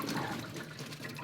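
Water pouring and draining off blanched, chilled green beans in a strainer, a steady close splashing trickle with no voices.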